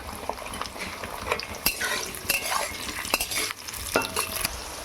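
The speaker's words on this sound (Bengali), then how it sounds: "আমি সবজিগুলো ভেজে নেব" Carrot, beans and capsicum stir-fry in a hot pan for chicken fried rice, with a steady close sizzle broken by spatula scrapes and clinks against the pan, no voices.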